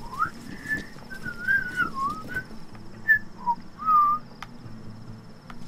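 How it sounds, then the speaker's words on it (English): Whistling from a player character in the video game Metal Gear Solid V, a wavering series of short tuneful phrases against a low game ambience, with a faint steady background tone. "Did he buy into my horrible whistling and the ominously moving box?"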